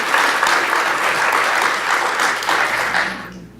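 Applause from the audience at a research colloquium, a loud, dense burst of clapping that holds steady for about three seconds before quickly tapering off to quiet.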